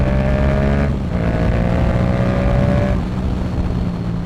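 Yamaha MT-07 motorcycle with a Yoshimura exhaust accelerating hard from around 60 mph in third gear, a loud, close engine note climbing in pitch, dipping briefly, then rising again before settling.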